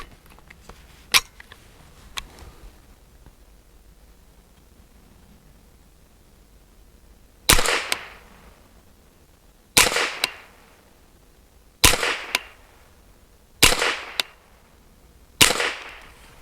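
An MBGL Goat-15 firing Aguila Super Extra 40 grain non-copper-plated rounds: five loud, sharp shots spaced about two seconds apart, each with a short ringing tail, preceded by a couple of faint distant pops.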